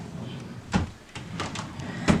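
A nursery dresser drawer sliding open, heard as a few soft wooden scrapes and knocks close by in a quiet room.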